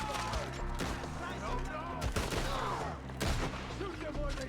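Rapid gunfire from a Red Dead Redemption 2 shootout rattles in repeated volleys beneath steady game background sound and music, with several sharper cracks standing out; fairly faint overall, with voices talking over parts of it.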